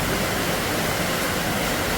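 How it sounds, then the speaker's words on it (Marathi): Heavy evening rain pours down in a steady, dense roar that stays constant and loud throughout, with no breaks and no voices. "एवढा पाऊस झाले"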